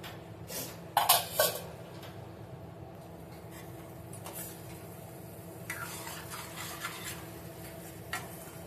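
Peas and raw paneer gently stirred in a pan, a quiet scraping of spoon against metal with a few sharper clinks early on, then soft intermittent stirring over a low background hum.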